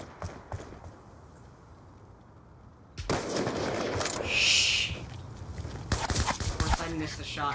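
Sniper rifle gunshots in a video game, a few sharp cracks early, then a louder burst of shots and reverberant blasts later, mixed with clattering and in-game noise over a voice.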